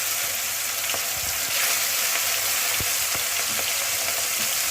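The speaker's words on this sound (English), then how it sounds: "I'll fry the fish both the sides slowly" Fish fillets fry slowly in a few spoons of hot cooking oil, a steady close hiss broken by scattered pops and crackles, with no voices over it.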